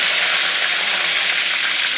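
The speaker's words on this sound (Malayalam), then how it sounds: "നമുക്ക് കുറച്ച് കടുകിടാം. അതൊന്ന് പൊട്ടിക്കോട്ടെ." Mustard seeds crackle and splutter in hot oil with fenugreek for a fish curry, a loud, dense, continuous sizzling hiss with no talk.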